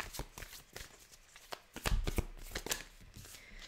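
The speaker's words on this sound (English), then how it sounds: "let's pull you some animal spirit cards as well to get some final messages for you" A deck of animal spirit oracle cards is shuffled by hand in quick, papery riffles and slaps, close and fairly quiet, with no voices.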